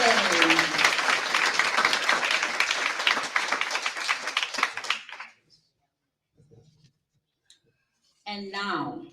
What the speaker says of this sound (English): Another round of applause for Megan